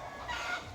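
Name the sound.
chickens clucking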